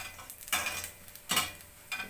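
Pork belly frying in its own rendered fat, a steady crackling sizzle broken by a few brief louder bursts of spattering or stirring, close by.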